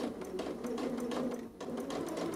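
Sewing machine stitching piping into a fabric seam, a quiet steady whirring run of rapid needle strokes with one brief slowdown midway, no voices.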